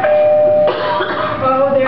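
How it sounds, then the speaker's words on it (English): A doorbell rings indoors with sustained tonal chimes that shift pitch partway through, clear and fairly loud, with a faint voice or throat noise mixed in. "That is the doorbell, Fester."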